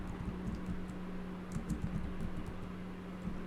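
Soft keystrokes tap on a computer keyboard in a terminal editor, a quick irregular patter in short bursts over a low steady hum.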